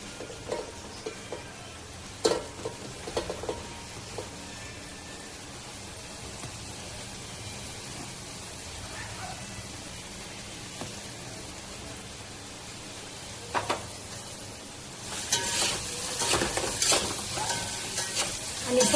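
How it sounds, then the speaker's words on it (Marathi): Finely chopped onion frying in a pan with ginger-garlic paste for pav bhaji, a soft continuous sizzle broken by occasional spatula clinks and stirring scrapes that swell louder near the end. "आणि सोनेरी कलर येईपर्यंत हा कांदा चांगला परतून घ्यायचा आहे."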